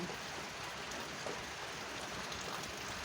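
Rain falls steadily in a soft, even hiss with no breaks, fairly faint and heard on its own without any voices.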